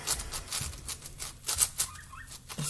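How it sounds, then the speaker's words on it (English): A blue budgie chirps in the background indoors with quick, bright, scattered chirps and squawks at moderate volume, a few louder bursts standing out near the middle. "The bird in the background is my bird"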